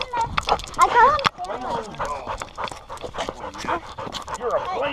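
A dog pants and whimpers close by, with snuffling breaths and soft whines running steadily through the clip while someone talks over it in a casual, teasing voice.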